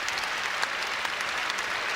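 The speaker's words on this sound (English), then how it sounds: "really a nice gesture from the sellout crowd here to give that young man a standing ovation" A sellout crowd at an Oklahoma State vs. Kansas men's college basketball game applauds an injured player in a standing ovation. The clapping is dense, steady and continuous throughout, with no talking on top.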